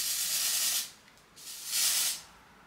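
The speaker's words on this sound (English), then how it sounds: "You just put some spray." Two short, close bursts of hair spray hiss over flyaway hair, each lasting under a second with a brief pause between them.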